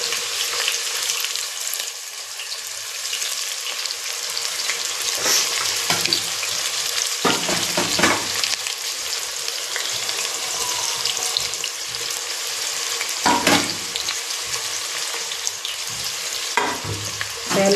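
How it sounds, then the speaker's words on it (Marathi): Chopped onion and tomato fry in hot oil in a pan, a steady close sizzle with scraping stirs of a spoon running throughout, no voices over it. "याला चांगलं हलवून घ्यायचं."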